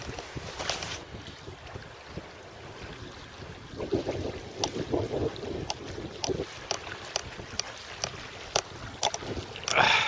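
Freezing winter wind sweeps across a lakeside carp-fishing swim, buffeting the microphone in steady rumbling gusts with scattered sharp clicks and knocks close by, and a louder gust at the end.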